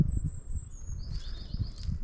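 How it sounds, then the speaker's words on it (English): Small birds chirping outdoors on a breezy hillside with cherry blossom, high thin tweets fairly faint above steady low wind rumble. "my little birds."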